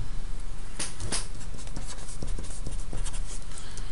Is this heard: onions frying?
no